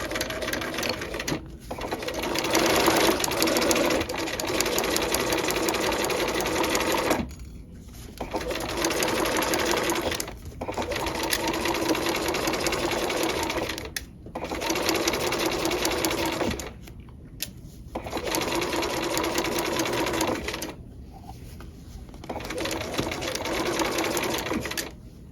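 A sewing machine runs a standard 2.5 length stitch along a bag seam for dual flap pocket construction, buzzing close and loud in long steady runs broken by short pauses, with no talk over it.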